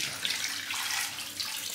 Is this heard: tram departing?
no